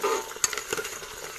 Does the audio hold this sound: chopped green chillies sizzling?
yes